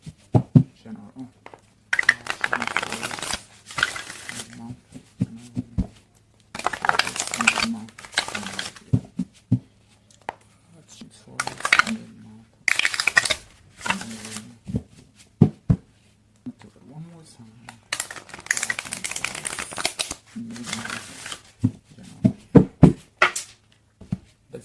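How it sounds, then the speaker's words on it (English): Tarot cards are shuffled on a small table in several separate bursts of crisp riffling and shuffling, each lasting a few seconds, with quiet gaps and soft handling noises between them. "I'm going to start shuffling."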